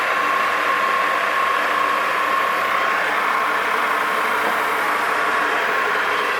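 Myers dissolver lift mechanism running on 440 volts through its original controls, a steady loud mechanical whir with a continuous tonal hum and faint ratcheting texture, constant throughout with no talk.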